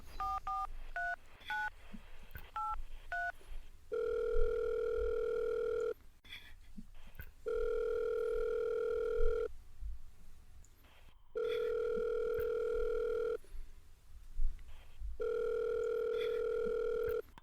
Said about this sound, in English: I'll go ahead and dial him in. Let's get him on the phone, and hopefully he answers here.